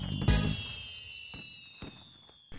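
Fireworks go off in a loud burst with crackling, then scattered fainter pops follow over a lingering high whistle.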